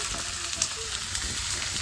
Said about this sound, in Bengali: পেঁয়াজের সাথে এঁচড়টা ভালো করে একটু ভেজে নেবে